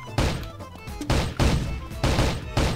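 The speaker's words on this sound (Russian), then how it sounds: "Ничего себе стрельба, Димас, у меня мощная" Rapid bursts of heavy gunfire in the video game Havocado, loud and close, coming in several dense volleys with short gaps between them.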